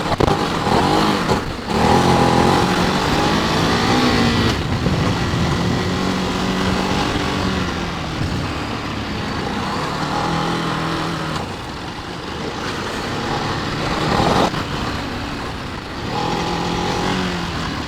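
A Ducati DesertX motorcycle rides off-road on an adventure track, its engine droning steadily and close with rising and falling revs throughout.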